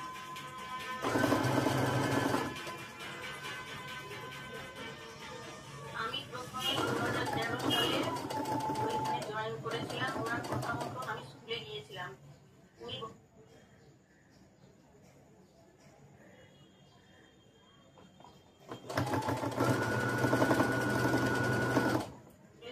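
A sewing machine stitching a cushion cover runs in three loud bursts of rapid mechanical whirring, separated by quieter stretches with handling sounds.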